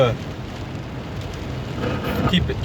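Steady rain falls on a rainy, windy Saturday morning, a continuous broadband hiss that holds even and moderately loud throughout, growing slightly fuller near the end, with no voices over it.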